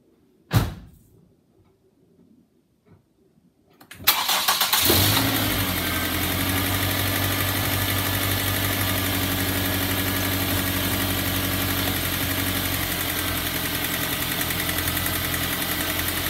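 A Ford Focus engine cranks and catches after a door sound, then settles into a loud, steady idle that runs alone and continuously to the end.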